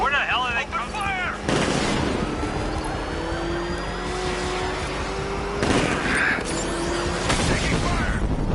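Gunfire in Batman Arkham Knight, rapid bursts over a steady vehicle rumble and siren-like wails, loud and continuous, with game voices talking.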